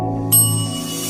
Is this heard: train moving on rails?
no